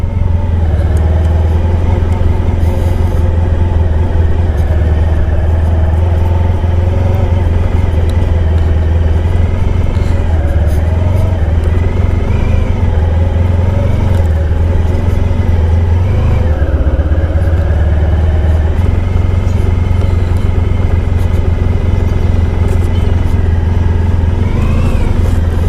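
A 1994 Honda ST1100 motorcycle cruising on a Sunday road ride toward a beach, its engine a constant loud drone with wind rush and slight rises and falls in pitch throughout.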